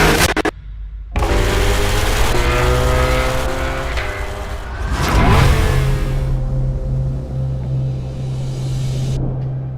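A Corvette ZR1 race car at full speed on a fast Nürburgring lap: a loud, close engine whose pitch climbs and drops through a quick gear change near the start, then settles into a sustained high-revving roar.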